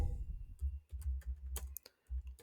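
Computer keyboard keys pressed while a pip install command is typed, a short burst of quick, close clicks with brief pauses between them.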